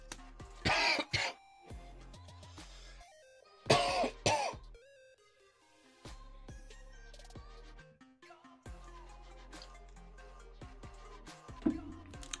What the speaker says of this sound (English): have a bit of a coughing fit